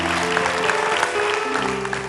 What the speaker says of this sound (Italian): facciamoci l'applauso, bravi!